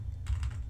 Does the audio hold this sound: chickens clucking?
no